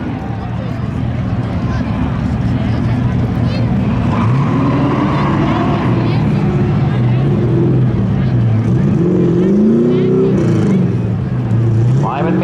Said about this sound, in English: Oh my goodness, drag race, but it's the 32 car.